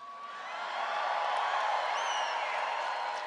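Large political rally crowd in Green Bay on a Saturday night cheering and whooping, a broad dense roar that swells and holds steady throughout, with scattered shouts and a whistle rising above it.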